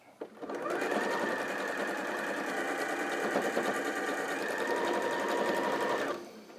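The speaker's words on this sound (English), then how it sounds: "So I'm going to sew straight over that again." A sewing machine stitches a quilt block, running in one steady continuous burst for about five seconds after a brief start, close and loud, then stopping.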